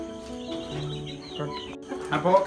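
Domestic chickens kept in a poultry shed, several birds clucking and murmuring close by in an irregular stream, growing louder and busier toward the end, with no talk over them.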